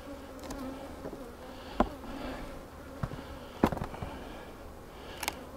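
Honey bees buzzing around an opened hive in a bee yard, a steady close drone of many wings with occasional sharp crackles and knocks from handling the boxes, no talking.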